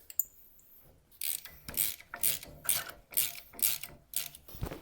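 A ratchet tightens bolts on a Jeep with rapid bursts of close, crisp clicking, about seven quick strokes in a row after a brief pause, with no talk.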